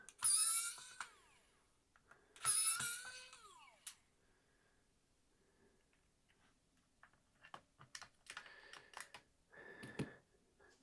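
Two bursts of a small electric screwdriver whirring as it unscrews the screws on a Nintendo Switch Joy-Con, close and quiet, followed by faint clicks and plastic handling noises.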